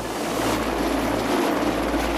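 Helicopter taking off to carry an injured person to hospital: a loud, steady rotor and engine roar with a dense continuous whir, close by and with no voices.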